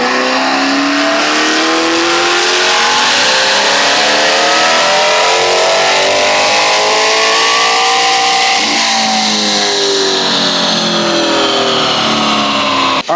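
Maserati GranTurismo S with megaphone test pipes and a tune, revving on a dyno. A loud, sustained engine wail climbs steadily in pitch over several seconds, dips briefly, then rises again before cutting off sharply.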